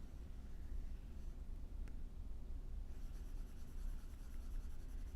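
A pen scratches steadily across a paper-like drawing surface, a faint continuous rubbing and scratching close up under a low background hum.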